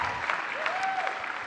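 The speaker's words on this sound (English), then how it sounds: "Let's give her an applause." Audience applause at a welcome during a church-style gathering, a steady wash of clapping filling the short stretch at moderate level with a faint tonal whistle briefly riding over it.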